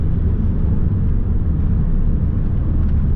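A steady low diesel engine rumble fills the cabin of a Volkswagen Transporter 2.0 TDI panel van, constant and fairly loud, with no voices over it.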